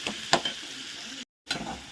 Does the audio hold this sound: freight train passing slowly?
no